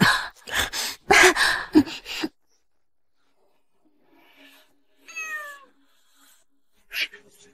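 A cat gives a single rising, strained meow after a stretch of silence, heard near and clear, preceded by gasping and heavy breathing and followed by a brief sharp sound.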